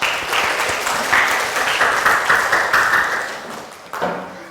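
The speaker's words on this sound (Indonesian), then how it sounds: "Oke, tepuk tangan dulu." A class bursts into applause, a dense, lively clapping that stays fairly loud for several seconds, then drops away with a couple of thumps near the end.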